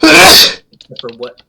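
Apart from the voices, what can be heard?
sneeze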